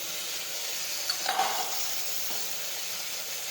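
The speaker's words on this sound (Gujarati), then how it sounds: "હવે આપણે સાતળી દઈશું આ રીતે" Cluster beans sizzle steadily while being sautéed with mashed tomatoes in a pan, a constant hissing fry with a few soft stirring scrapes in the middle.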